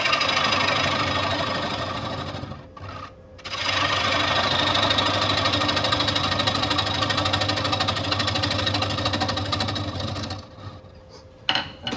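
A woodturning lathe spins at about 350 RPM, giving a steady rhythmic mechanical thrum close by that briefly cuts out and restarts, then fades down near the end.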